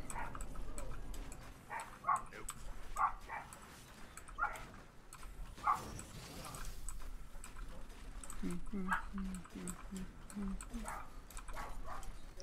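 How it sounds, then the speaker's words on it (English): Dogs barking in a video game, a run of repeated yips and barks scattered across the whole stretch, some louder and closer than others, mixed with game sounds and someone talking over them. "those dogs are annoying. Do they ever shut up?"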